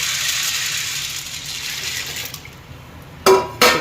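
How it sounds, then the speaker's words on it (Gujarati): Water streams steadily over a bowl of soaking kabuli chickpeas, about 650 to 700 grams, a close rushing pour that tapers off before two short sharp splashes at the end. "પાણી નાખી દેવા અને પાંચ છ કલાક પલરવા દઈએ છીએ"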